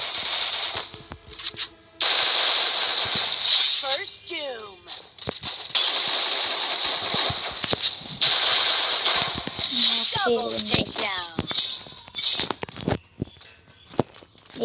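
Shooter video game gunfire: rapid bursts of shots and rattling weapon sounds alternating with short gaps, footsteps and game effects in between.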